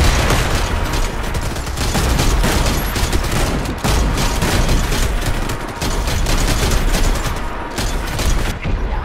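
Dense, continuous gunfire from a survival-mode shooter game set on a Chernobyl map, with rapid shots rattling nonstop at a loud, close level and only brief dips in the barrage.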